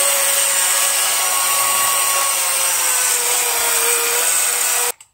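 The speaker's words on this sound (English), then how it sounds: "now you have a drill powered hand blower, and it really works" A hand-crank air blower driven by a power drill whirs in a steady, loud, continuous whine with no talk, then cuts off abruptly at the end.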